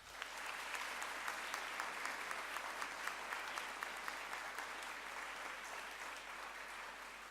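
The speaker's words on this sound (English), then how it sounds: "Let's give them a round of applause." Dense, steady audience applause at a high school Founders' Day ceremony honoring alumni at their 50th reunion, with many hands clapping continuously and evenly throughout, no voices rising above it.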